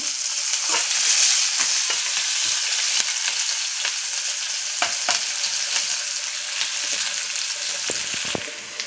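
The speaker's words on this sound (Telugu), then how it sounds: "కొంచెం ఆనియన్, పచ్చిమిర్చి వేసుకుందాం." Chopped onion and green chilies frying in hot oil in a pan, a loud continuous sizzle with occasional clacks and scrapes of stirring, close and steady throughout without talk.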